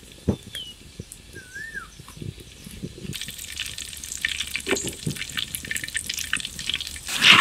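Peanuts, cumin and mustard seeds sizzle in hot oil for a raw mango pulihora tempering; quiet kitchen sounds give way to a steady, crackling fry that grows louder and denser toward the end.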